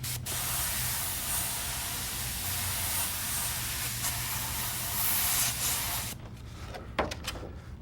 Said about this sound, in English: you can come in with your white, line those suckers up and spray them